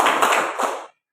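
Hand claps from a group in a school classroom session, a few quick bursts of clapping close by, then stopping abruptly.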